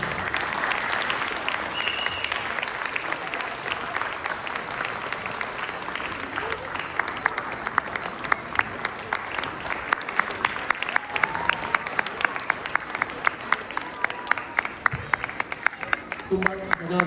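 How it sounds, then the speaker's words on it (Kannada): Loud, sustained applause fills a hall at a Kannada association Rajyotsava celebration in San Joaquin after a Yakshagana performance, dense clapping that grows sharper and more insistent toward the end. "ಒಂದು ಜೋರ ಚಪ್ಪಾಳೆ ಬರಲಿ."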